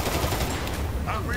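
Rapid automatic gunfire in a multiplayer shooter game, a brief burst of loud, close shots with a voice faintly underneath.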